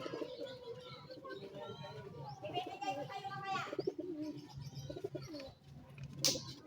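Racing pigeons at a derby race coo repeatedly in soft, throaty bursts, with people talking nearby and a faint high chirp near the end.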